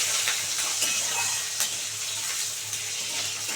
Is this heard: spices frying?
yes